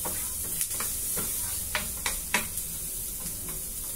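Garlic and onion sauté in butter with a steady broadband sizzle, punctuated by several sharp clicks and scrapes of stirring spaced irregularly, close and fairly loud, with no talking.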